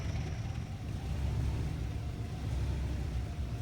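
A 1976 Mercedes 240D diesel car being driven, its low engine rumble and road noise steady and close throughout, with no talking.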